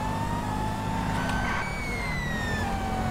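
Police sirens wail in GTA 5 Online, several overlapping rising and falling tones over a continuous low engine rumble, loud and sustained with no talking.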